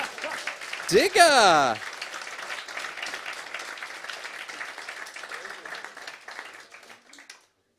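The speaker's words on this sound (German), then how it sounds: "Applaus" Audience applause at a comedy contest final, starting with a brief loud shout and squealing burst, then steady crowd clapping that slowly thins and stops near the end; a voice calls out once.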